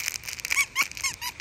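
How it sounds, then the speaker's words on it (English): A dog's rubber squeak toy gives several short high squeaks in quick succession, close and clear, mixed with faint crinkling handling noise. "Somebody likes a squeak toy"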